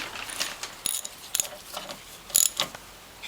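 Metal bolts being threaded and snugged by hand on a Norwalk juicer during return spring installation, giving scattered light clinks and scraping taps in short bursts, close and fairly quiet with no talk.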